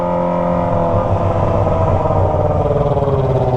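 Motorcycle roaring at speed on a dark road, a loud close engine snarl with rising revs and a pulsing exhaust note, no talk.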